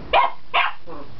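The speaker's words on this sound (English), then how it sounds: "He just found his bark." A young dog barks at close range during play: two sharp, bright barks about half a second apart, then a softer, lower third yip. No one talks over them.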